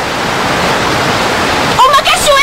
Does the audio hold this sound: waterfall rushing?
yes